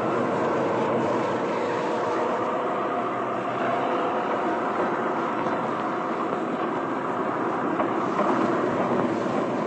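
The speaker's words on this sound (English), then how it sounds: "The long train gathers speed as it winds its way along the tracks." A 1940 Baltimore & Ohio Railroad passenger train rumbles steadily along the tracks as it gathers speed, a continuous broad roar with faint rail clatter, growing gradually without pause.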